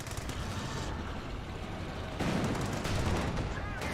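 Cromwell tank gunfire in a British 3v3 strategy game: a continuous rumbling battle din with muffled shots and a heavier blast partway through, fairly loud and dense throughout.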